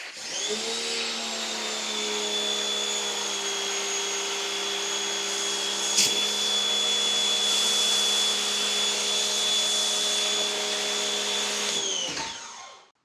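A pressure washer drives an aluminum foam cannon in one steady, loud, continuous roar with a high whine, running about twelve seconds before cutting off, close by with no voices.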